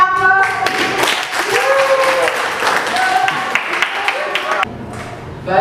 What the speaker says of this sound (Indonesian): Baik, kita kasih aplaus.